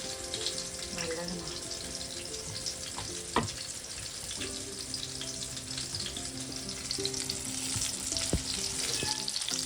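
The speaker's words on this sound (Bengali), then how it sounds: "আমি এইভাবেই বেগুন ভাজি যাতে তেলটা কম লাগে" Steady sizzling of eggplant frying in hot oil fills the clip, with light clinks of a utensil and a faint hum underneath.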